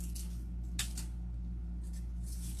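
Scissors snip through artificial rose stems in a few quick, faint cuts over a steady low hum, close and quiet.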